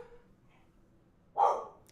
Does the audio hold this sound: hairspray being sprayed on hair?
no